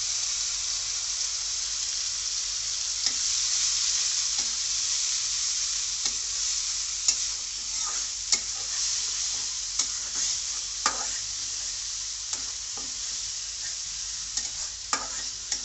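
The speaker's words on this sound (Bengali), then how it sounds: "মশলাটা আবার আমি সুন্দরভাবে কষিয়ে নেব" Onions and masala spices fry in oil for a Bengali fish curry with winter vegetables, a constant bright sizzle under repeated scraping and clacking of a spatula stirring the pan.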